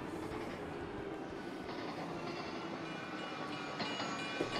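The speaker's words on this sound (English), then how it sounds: "Waiting for the train." A train pulling into a station in the video game Splatoon 3, a steady rolling rumble of rail cars that holds at a constant level throughout, with no voices over it.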